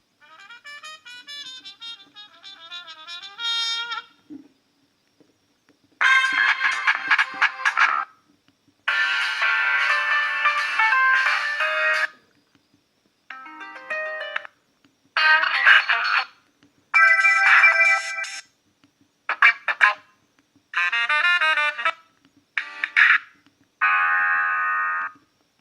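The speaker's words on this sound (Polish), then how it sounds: "Ten telefon posiada bardzo dużo dzwonków i naprawdę bardzo ciekawych." A series of electronic ringtones from a Sony Ericsson W980 phone, each a short melodic tune of bright synthesized beeps and chimes, separated by brief silences and played one after another.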